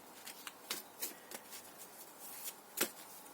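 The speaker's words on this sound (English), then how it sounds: "So let's get the cards out." Tarot cards handled and shuffled during a pick-a-card reading, giving quiet, crisp riffling and flicking bursts at irregular intervals, with one sharper snap near the end and no speech.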